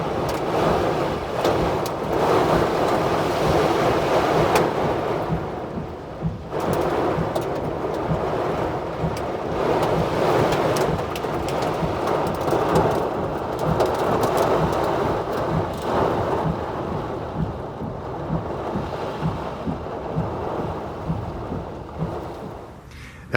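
Severe thunderstorm with wind, heavy rain and hail lashing a vegetable garden, a steady loud roar of downpour and gusts with rumbling thunder running throughout, no voices.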